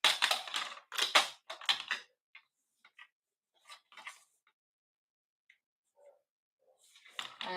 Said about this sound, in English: for the insert, which I need to cut an insert for there